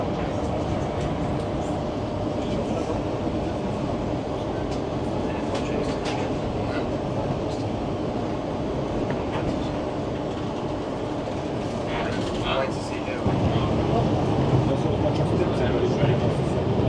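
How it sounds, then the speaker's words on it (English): A Budapest tram rolls along with a steady rumble and rattling, then slows and halts with a clunk while the motor hum continues; faint voices sound in the background. "Finally, a tram that stops."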